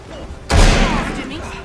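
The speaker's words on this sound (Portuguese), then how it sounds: "Você me deu um tiroteio nas costas." A single loud, close gunshot in the Assassin's Creed Syndicate video game, with a sharp onset and a long, heavy rumbling decay.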